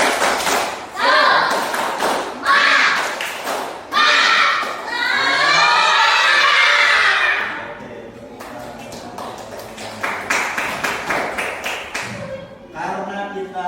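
A school class claps the rhythmic tepuk semangat chant in a classroom, with sharp bursts of claps in quick patterned groups and children's voices shouting along, loud and close.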